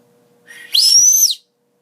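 A small bird whistle held on the tongue gives one short, bright, sliding chirp, clear and close in an otherwise quiet room.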